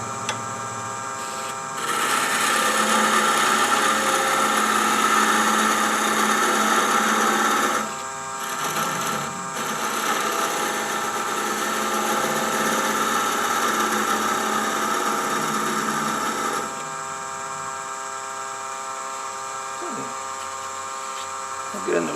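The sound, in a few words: wood lathe parting tool cutting off a coffee scoop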